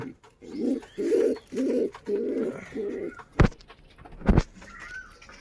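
Domestic pigeons in a home loft give a series of five or six close, low rolling coos in steady rhythm, followed by two sharp clapping bursts, likely wing flaps, with faint background rustle.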